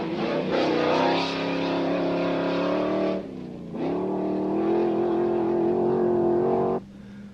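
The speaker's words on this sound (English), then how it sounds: "spectacular progress from the V8 powered Land Rover of Sam Mahmood" A V8-powered Land Rover rally car at the 1990 Dubai International Rally, engine roaring loudly under hard acceleration, a brief lift around the midpoint, then climbing again with a steady high-revving drone before easing off.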